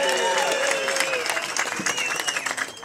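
Audience clapping at a ceremony handing out provisional driving licenses to motorbike riders, a dense steady patter of many hands that stays fairly loud for the full few seconds, with scattered voices mixed in.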